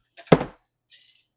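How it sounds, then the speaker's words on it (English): A close metal lid clinks and scrapes against a glass pickling jar of red onions as it is screwed on tight, followed by a lighter second clink. "Now I need a bunch of lids. On and tight."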